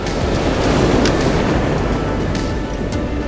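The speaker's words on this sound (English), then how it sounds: "A wave just crashed in front of me" Ocean surf crashes on a beach during surf perch fishing, a loud roaring wash of breaking water with a few sharper splashes, close and continuous, no voices.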